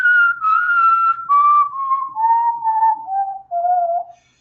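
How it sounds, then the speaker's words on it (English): A person whistles a descending major scale, starting around F and stepping down note by note, each pitch held briefly, loud, close and clean with no other sounds. "So I was whistling an F, or somewhere between an F and an F sharp there"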